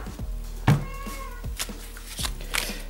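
A small female cat meows indoors behind the scene, with one clear drawn-out call near the start and fainter mewing after it, set against low room noise.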